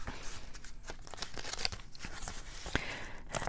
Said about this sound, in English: because I'm manhandling this envelope